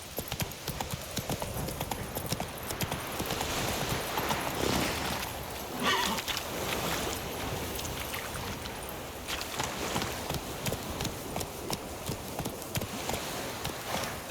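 The horse Roach trots in The Witcher 3: Wild Hunt, giving a steady, rhythmic clip-clop of hoofbeats that runs through the whole stretch at close range, with a brief neigh.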